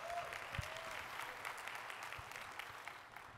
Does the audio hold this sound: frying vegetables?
no